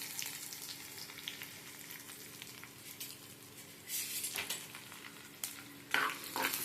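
Dried red chillies with mustard seeds, cumin, fenugreek and urad dal fry and sizzle in oil, a steady crackle with bursts of stirring scrapes and louder sizzles toward the end.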